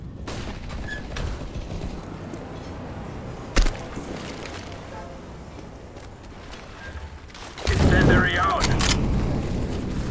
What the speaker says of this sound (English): Throwing flashbang!